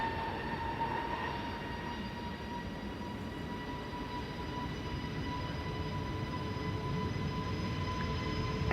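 SAS Airbus A320neo jet taking off from the Polderbaan runway, a distant steady roar with a faint whine, gradually swelling in loudness, no voices.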